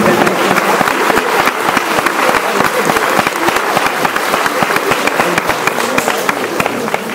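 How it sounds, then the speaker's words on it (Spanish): An audience breaks into spontaneous applause at a comic and illustration event, a dense steady patter of many clapping hands filling the room at full volume throughout. "¡Qué espontáneo aplauso!"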